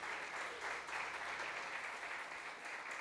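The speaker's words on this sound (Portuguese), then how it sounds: "Você que pode dar uma salva de palmas para Jesus" A congregation at a live church worship service claps together, a steady, fairly faint patter of applause lasting a few seconds with no distinct voices over it.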